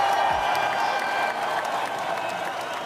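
A steady wash of clapping, like a crowd applauding, holds at an even level throughout.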